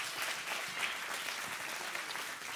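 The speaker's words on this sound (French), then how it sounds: "Si vous voulez applaudir, applaudissez tous." A church congregation applauds during a French sermon, dense and even clapping from many hands filling the room at a moderate level for a few seconds, with no one speaking over it.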